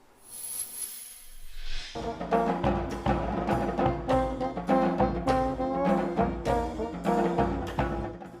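A young jazz band of student musicians in New Orleans plays a lively, steady rhythm with full instrumental accompaniment, loud and close.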